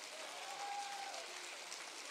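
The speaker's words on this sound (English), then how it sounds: "somebody clap your hands and praise him" Church congregation during a sermon applauds, a brief wash of many hands clapping at a distance, faint and continuous for about two seconds.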